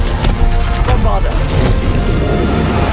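Bombarda explosion spells cast in combat in the video game Hogwarts Legacy on PS5: several booming blasts and crashes burst over continuous battle noise and music, loud and close, with a voice calling out at times.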